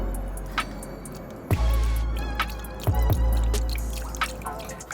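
Antifreeze glugs and trickles from a freshly opened jug into a motorcycle's coolant reservoir, with irregular drips and splashy pours swelling and fading, plus a couple of louder bumps of the container.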